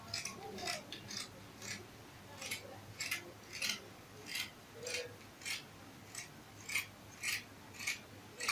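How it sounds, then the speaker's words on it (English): Scissors snipping through fabric in a steady series of crisp cuts, about one or two per second, close up with no talking. "I'm going to use my scissors to cut it out."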